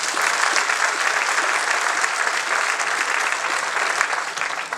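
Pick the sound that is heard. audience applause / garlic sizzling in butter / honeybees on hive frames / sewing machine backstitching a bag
audience applause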